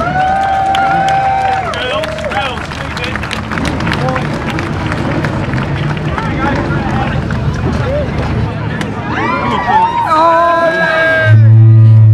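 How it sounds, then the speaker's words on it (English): A crowd applauds the podium winners after a celebrity race at the Silverstone Classic in 2011, with a loud, sustained wash of clapping and cheering running under continuous announcer talk and music before a sudden low hum at the end. "Give them all another round of applause."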